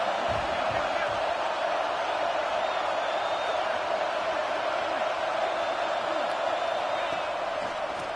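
Steady, dense roar of a large stadium crowd at a video game college football game, continuous and unbroken throughout, with no distinct cheers or spoken voices rising above the wash.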